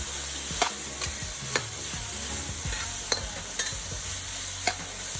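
Potato pieces frying and being stirred in a pan for Korean black bean noodles: a steady close sizzle with regular sharp scrapes and clacks from the utensil, and no talking.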